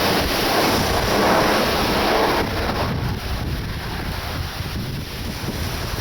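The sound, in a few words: high wind at Leeds Bradford airport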